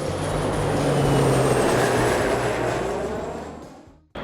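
A London train departing, rumbling and rolling along the rails, loud and close, its steady roar slowly fading away before cutting off abruptly.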